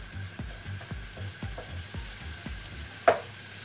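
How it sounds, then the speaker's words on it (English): Smoky lardons fry in a pan, a faint bed of sizzling broken by a regular series of soft scraping knocks about every half second as they are stirred, ending with one sharper clack. "And all we're going to do now is just crisp this off. It's a smoky lardons you want."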